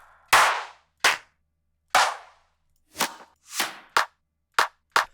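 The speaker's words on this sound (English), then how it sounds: "so let's add a clap" Clap drum sample in FL Studio, sharp dry hits repeated in a loose rhythm, about eight separate claps with short decays, loud and alone.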